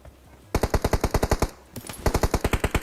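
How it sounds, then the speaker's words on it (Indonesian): Rapid automatic gunfire in PUBG Mobile, two loud bursts of evenly spaced shots separated by a short pause, close and dominant with no talk over them. "Itu dia nembakin siapa tuh?"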